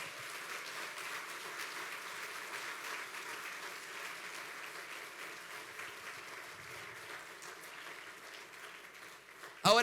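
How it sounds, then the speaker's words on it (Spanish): Church congregation applauding in a continuous, moderately distant wash of clapping that holds steady, ending with a sudden louder burst of sound. "Dale un aplauso al Señor."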